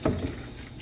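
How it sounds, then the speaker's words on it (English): Water runs from a tap while hands are washed and clay is rinsed out of a bowl after wheel throwing, a brief steady splashing rush. "Then we will wash our hands and rinse out the bowl."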